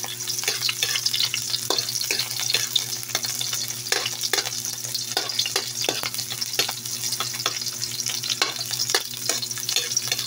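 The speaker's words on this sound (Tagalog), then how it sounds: "Ayan, paghahaluin na natin." Onions sizzle and fry steadily in a pan while being stirred, with frequent scraping and clinking of the utensil against the pan, close and continuous throughout, with a low steady hum beneath and no talking.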